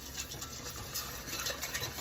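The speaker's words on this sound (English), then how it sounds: "We're going to keep whisking it till it thickens up." A whisk works through a thickening alfredo sauce of half and half in a pot on the stove, giving a steady close scraping and swishing with faint rhythmic taps and no voices.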